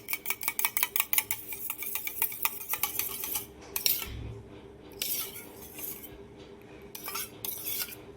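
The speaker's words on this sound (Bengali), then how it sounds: "দইটা এবারে খুব ভালোভাবে ফেটিয়ে নেব।" A whisk beats curd (yogurt) in a bowl with rapid, rhythmic clinks and scrapes, close and crisp, then slows into looser strokes separated by brief pauses.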